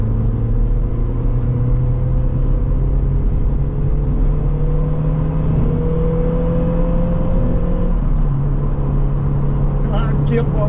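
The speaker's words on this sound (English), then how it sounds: "here's what the Corsa's induction noise sounds like as standard" Vauxhall Corsa B engine with its standard intake, a steady close rumble with induction whir rising through the revs and briefly dropping, no voices.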